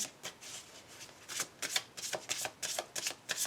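Tarot cards from The Wheel of the Year deck are shuffled close up, a quiet, steady run of soft riffling swishes in irregular bursts, alone with no talking.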